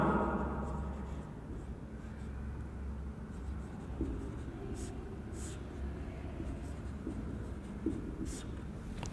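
Pen or chalk strokes scratch faintly and intermittently during a university mathematics lecture on subrings, under a steady low room hum, with no talk in the clip.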